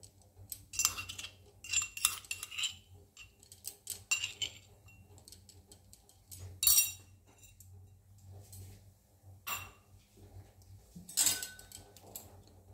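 Ginger and spices, including red chilli powder, are stirred in a cooking pot for an oil-free aloo matar ghugni, giving scattered light clinks and scrapes of a spoon at an irregular rhythm, fairly faint and without talk.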